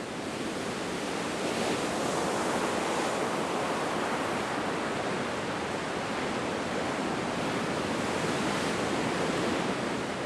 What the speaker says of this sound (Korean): 다음 날 태풍의 힘은 약해졌지만 파도는 여전히 몰아친다.